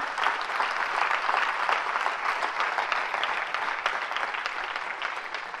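A church congregation at a marriage seminar applauds together, sustained dense clapping at steady volume that tapers slightly toward the end.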